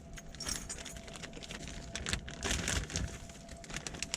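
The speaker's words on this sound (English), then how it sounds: "gotta use my keys to put a hole in the packaging" Metal keys jangle and scrape against plastic packaging while poking a hole in it to open carbon fiber interior trim for an S550 Mustang GT. The rustling clatter is close and continuous over a few seconds with no talking.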